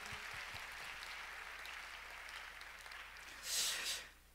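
Church congregation at a Friday service applauding in thanks, a steady wash of clapping filling the space at moderate volume, with a brief louder burst near the end.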